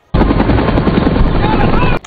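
A helicopter carrying a load slung in a net, flying over Cerro de la Muerte, Costa Rica: a loud, steady, dense rotor and engine roar that starts abruptly, holds for about two seconds, then cuts off.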